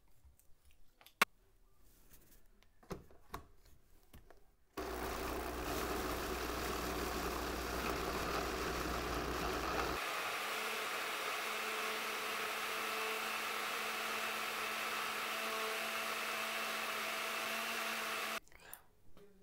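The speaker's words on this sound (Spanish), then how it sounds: "Voy a molerlo ya en la licuadora." A blender grinding a sauce for green spaghetti roars to life after some clicks and clatter, grinding steadily at high speed, then shifts to a smoother whir before stopping abruptly.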